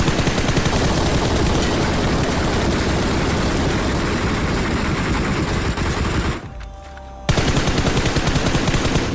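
Sustained rapid automatic fire from an M416 rifle in a mobile shooter game, loud and dense for several seconds, a brief break, then the fire resumes with no voices.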